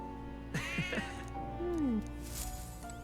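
A cat meows several times, short rising-and-falling calls followed by a longer drawn-out meow, fairly close and clear against a steady low background hum, with no talk.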